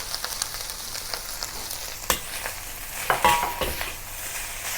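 Crab fried rice with green onion being stir-fried in a smoking-hot wok: steady sizzling with scraping spatula strokes and a few sharp metallic clanks, close and fairly loud, no talking.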